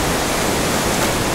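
Sea waves at the wild Bãi Chuối beach near Nha Trang make a loud, unbroken rushing roar of surf that fills the whole moment without any breaks.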